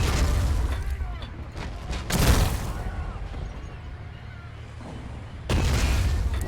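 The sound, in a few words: tank firing, Men of War: Assault Squad 2 video game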